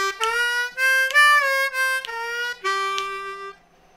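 A blues triplet lick on a C harmonica, opening on the two draw and moving through a half-step bend on the three draw to the four blow. It runs as a flowing phrase of reedy notes with quick slides between pitches and ends in a held low tone.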